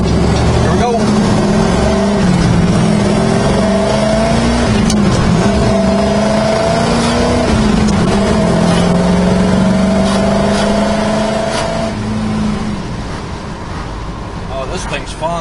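A 1967 Chevrolet Camaro SS V8 pulls hard through the gears from the cabin, its engine note climbing, dropping at each shift and climbing again, loud and steady with wind roar, then easing off near the end.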